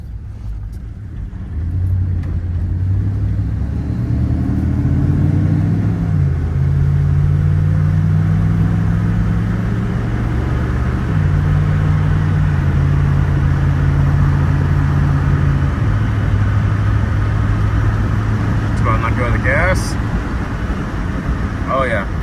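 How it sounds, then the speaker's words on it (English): A 1993–98 Jeep Grand Cherokee ZJ with a 5.2L V8 and a newly replaced idle air controller idles with a steady, loud, low hum that shifts slightly in pitch but holds without dropping. "Idle hasn't dropped, and that is a very first good sign right there."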